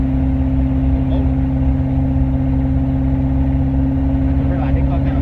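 A car fitted with a 5.3 engine on one of its last rides, a steady loud low engine drone running continuously throughout.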